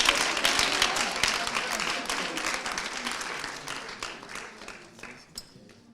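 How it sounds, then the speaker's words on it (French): Applause from an audience at a children's Christmas contest finalist ceremony, steady dense clapping that holds for about five seconds and then thins out, with faint voices mixed in. "Il faut l'applaudir."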